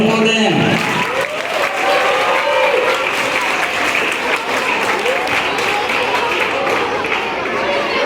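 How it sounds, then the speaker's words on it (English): A school audience breaks into sustained, loud applause for the newly announced head boy, dense clapping filling the hall steadily throughout with crowd murmur underneath. "Clap for them."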